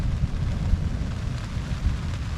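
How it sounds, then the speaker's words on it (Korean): Heavy rain with thunder rolling continuously at a campsite near Mount Fuji, a deep, steady rumble lasting several seconds under the patter of rain. "아니 천둥이 몇 초를 치는 거야?"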